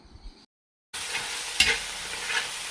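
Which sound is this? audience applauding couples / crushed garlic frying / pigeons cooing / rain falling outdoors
crushed garlic frying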